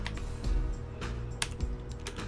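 Fingers clatter on a computer keyboard in quick irregular bursts of clicks with a sharper key strike or two, close and fairly quiet, no talking over it.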